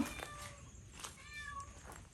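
A cat meows in an abandoned house, giving a few short, thin, high cries close by against a quiet, faintly noisy background, with no voices.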